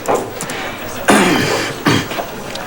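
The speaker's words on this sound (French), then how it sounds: "Tiens, je t'ai donné ma toux." Two short, harsh coughs close by, a second apart, over a faint background murmur.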